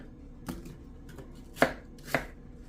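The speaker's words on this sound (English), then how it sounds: "you're going to slice them up in little wedges and just add them to your pot" Gala apples sliced into little wedges on a cutting board, a few separate knife cuts with crisp thuds, two louder near the end, spaced irregularly against a quiet background.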